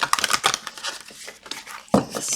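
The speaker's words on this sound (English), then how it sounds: "And I'm going to shuffle real quick for" Quick papery riffling and crinkling of cards being shuffled close by, a flurry of short rustles with a brief pause before a final burst.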